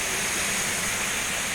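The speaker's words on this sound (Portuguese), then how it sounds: "Estamos aqui nesse passeio na Cachoeira de Arapongas." Cachoeira de Arapongas, a waterfall in Jacobina, Bahia, pours in a continuous, dense roar of falling water, loud and close with no voices over it.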